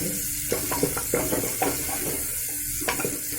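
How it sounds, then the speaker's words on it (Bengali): Mixed vegetables lightly frying in a pan give a steady hissing sizzle, with scattered stirring clinks and scrapes of a utensil close by, and no voice. "দেখে মন্ডাগুলো হালকা একটু ফ্রাই হচ্ছে"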